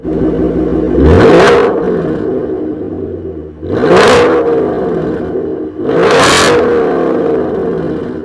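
Three loud revs from a 2019 Ford Mustang GT with a Borla ATAK exhaust close by, each climbing sharply to a high-pitched roar and falling back to a rumbling idle.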